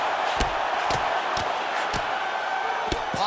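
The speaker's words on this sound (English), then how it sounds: "you heard the crowd pop after that grueling ground battle" A crowd roars in the EA Sports UFC 5 mixed martial arts game, a constant wash of noise broken by several sharp, evenly spaced punch impacts, with no talking.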